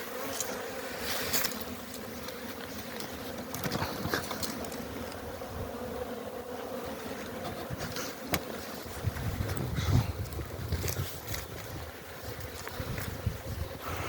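Honeybees buzz around the hives of an apiary on a warm winter day with about ten degrees in the shade: a dense, steady swarm hum that holds throughout, with wind gusting softly underneath.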